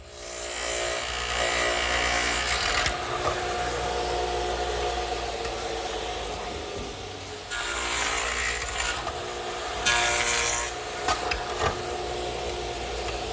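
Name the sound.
radial arm saw cutting a dado in wooden legs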